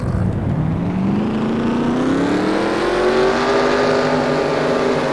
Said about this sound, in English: The engines roar.